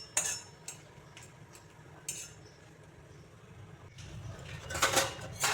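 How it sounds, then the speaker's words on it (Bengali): Two dry red chillies roast in a wok with no oil, stirred close up with a few sharp metallic clinks and scrapes over a low steady kitchen background, getting busier toward the end. "আমি কড়াইতে 2টি শুকনো লঙ্কা ভেজে নিচ্ছি তেল ছাড়া"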